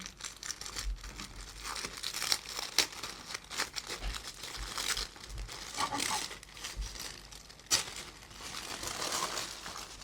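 Crinkling and tearing of KANO playing card deck packaging as it is unwrapped, with rustling bursts and sharp crackles coming in irregular waves up close, no talking.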